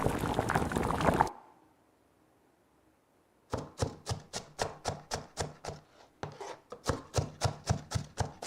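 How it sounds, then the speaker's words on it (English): Knife chopping chives on a cutting board, a rapid run of evenly spaced crisp thuds after a brief burst of other noise and a quiet pause, close and clear. "This is chopping. Chopping what? Lettuce. Kind of close. What are the things you chop? Chives."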